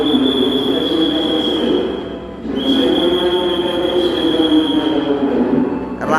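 The Airlangga train pulls out of Cikampek station with a loud, continuous rumble and a high steady wheel squeal, dipping briefly before building again as the cars roll past close by.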